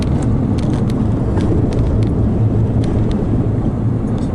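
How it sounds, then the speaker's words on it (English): Steady, loud road rumble of a car cruising along a coastal highway on California's North Coast, a continuous low drone with no talking. "I am driving."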